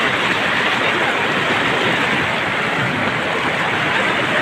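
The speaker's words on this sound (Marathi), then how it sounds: "हे येत आहे ना, हे खळखळ इथे येतो बरं, हे खळखळत आहे ना" Floodwater of the Koyna river near Mahabaleshwar rushes and roars after heavy rain, a loud, constant broadband gush with no voices.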